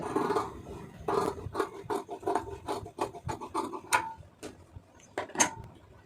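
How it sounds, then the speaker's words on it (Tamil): Scissors cut blouse fabric around the armhole in a close series of sharp, rasping snips, each a short crisp burst with brief gaps between them, with no other sound. "கரெக்டாக இந்த இடத்துல வந்து கட் பண்ணிடுங்க ஆம்கோல் அளவுக்கு"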